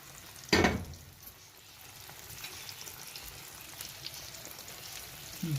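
Potatoes frying in hot oil give a steady, soft sizzle with a brief louder crackling burst near the start, heard up close in a home kitchen.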